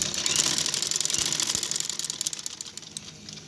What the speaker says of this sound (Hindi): अब हम कॉर्नर को इसके अंदर रखते हुए सिलाई लगाएंगे